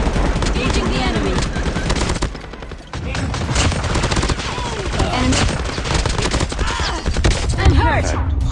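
Mac-10 submachine gun firing in Call of Duty Mobile, rapid loud bursts of automatic fire repeating almost continuously with brief gaps, close and dense, with other game sounds mixed in.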